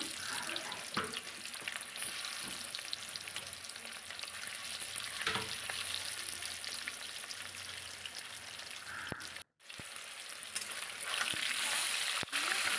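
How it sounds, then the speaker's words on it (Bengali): Fish pieces laid one by one into hot oil, a continuous loud spattering sizzle with occasional pops, briefly cut out near the end before resuming. "তো আমি এক এক করে তেলের ওপরে মাছগুলো দিয়ে দিলাম"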